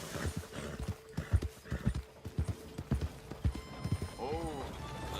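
A horse galloping in Red Dead Redemption 2, quick rhythmic hoofbeats close up, with a whinny near the end and voices talking over the ride.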